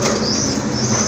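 A pigeon, a red Rajgolla fancy breed, flaps its wings in a steady, close rustling burst lasting about a second, with no voices over it.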